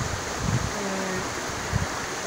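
Waterfall at Sítio Juazeiro in Bom Conselho, a constant broad rush of falling water heard up close, mixed with wind buffeting and a few soft thumps.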